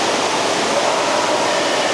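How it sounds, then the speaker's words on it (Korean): Steady rushing roar of a waterfall at an outdoor water park, loud and continuous with no pauses. "우와, 폭포도 있고요."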